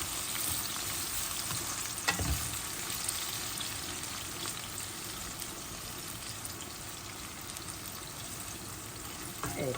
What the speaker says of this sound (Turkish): Bunlar şimdi böyle bir arkalı önlü karıştırarak kızartacağım.